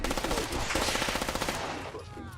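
Rapid automatic gunfire in heavily modded Fallout 4, a loud, close burst of evenly spaced shots lasting about two seconds, then trailing off into an echoing tail.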